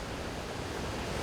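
Broad, steady roar of a 74-metre-high waterfall, constant and dense with no breaks.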